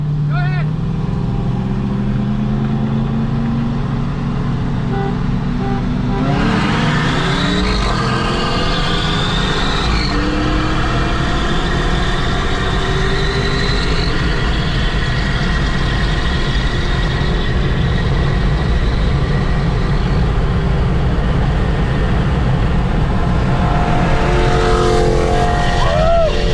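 Street race cars roar through hard acceleration runs at night on the coast, with engines climbing through gear changes, some on turbo boost. A loud, sustained drone continues with no break, and engine pitch sweeps rise and fall throughout.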